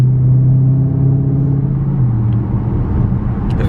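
Deep, steady rumble of a Dodge Challenger Hellcat engine with a mid muffler delete, heard close from inside the car as a strong low drone at a fairly constant pace, with no talk.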